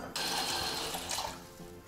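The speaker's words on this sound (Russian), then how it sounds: "Нужно набрать воды." Tap water running steadily into a container for candle gel melting, a continuous close, loud gushing stream throughout with no voices.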